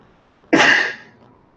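A single sharp, loud sneeze bursts out close by in a quiet room during a casual group hangout, then trails off with a breathy tail.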